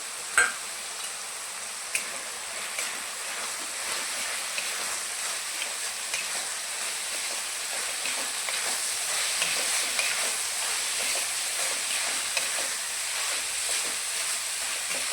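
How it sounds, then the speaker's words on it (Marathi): Spices being stirred into moth bean usal in a pan, a steady soft scraping and sizzling texture running continuously at close range with occasional small clicks, no voices. "आता सर्व मसाले घेतलेले याच्यामध्ये मिक्स करून घेऊया।"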